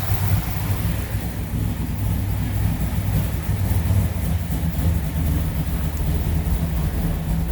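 A 1966 Plymouth Satellite convertible with a 426 Hemi V8 idling nearby, a loud, steady, deep rumbling lope that holds even throughout with no talk.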